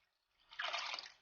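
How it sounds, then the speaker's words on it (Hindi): Water poured into a pot of chicken shorba, a short splashing pour that swells after a quiet start and holds steady for under a second before tailing off; nearby and fairly soft, no talking. "थोड़ा सा पानी इसमें और डालेंगे।"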